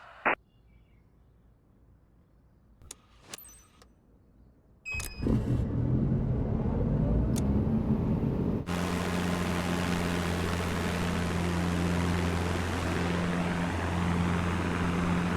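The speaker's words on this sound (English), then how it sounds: "Let's start the engine and avionics to see it running." A helicopter engine starting up in Microsoft Flight Simulator 2024: a few clicks and switch sounds, then a turbine whine builds into a loud steady roar with a sustained hum, alone without talk.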